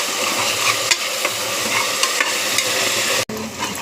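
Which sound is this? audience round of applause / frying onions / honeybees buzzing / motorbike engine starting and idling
frying onions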